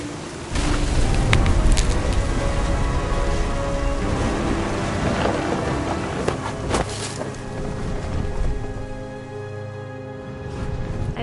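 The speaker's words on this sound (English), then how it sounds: "Thunder sounded much too close and full of angry power." Thunderstorm with steady heavy rain and low rolling thunder that swells close and forceful, a continuous loud wash of rain with deep rumbles building and fading throughout, no voices.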